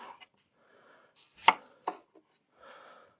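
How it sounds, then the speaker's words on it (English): A few irregular knife strikes on a cutting board as peppers are roughly chopped, sharp and close, with quiet rustling between chops. "they just need some rough chopping"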